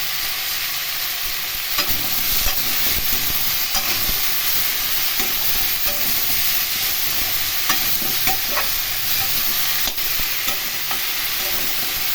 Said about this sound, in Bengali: এগুলো একটু নাড়াচাড়া করে ভেজে নেব।